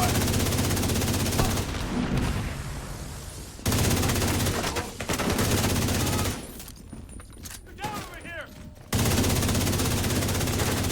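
Dense, sustained video game gunfire with airburst fire in The Division, loud and continuous, dropping briefly in two gaps before the shooting roars back.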